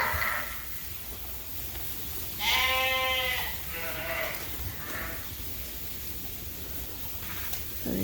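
Fall Suffolk lambs on a sheep farm give one clear, quavering bleat midway, with fainter bleats around it. Rustling and movement through straw bedding continue underneath.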